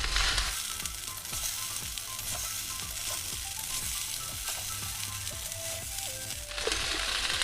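Vegetable fried rice sizzles steadily in a hot pan while a spatula scrapes and stirs in a regular rhythm. The frying is close and fairly loud and swells again near the end.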